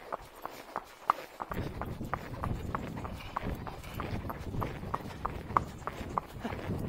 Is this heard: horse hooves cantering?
yes